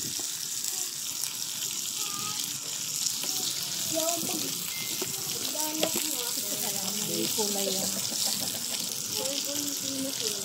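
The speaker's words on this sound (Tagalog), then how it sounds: "Tapos maprito na tayo nito." Beef frying in a hot pan gives a steady, close sizzle and crackle throughout, with a faint voice murmuring underneath.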